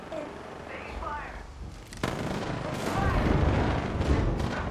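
An artillery barrage in the Apex Legends video game lands in a series of booming blasts and crackling explosions that grow louder, with players talking over them.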